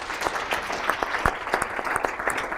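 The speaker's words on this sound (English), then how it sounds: "please join me in giving a round of applause" An audience applauds a guest speaker at an alumni talk, a crowd's clapping with sharp individual claps standing out in a quick irregular patter, steady and moderately loud from start to finish.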